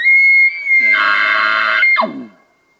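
A hunter's imitated cow elk call, meant to draw in bulls: one short, loud call that starts as a shrill, steady high tone, widens into a harsh raspy middle and ends in a quick falling squeal, heard alone.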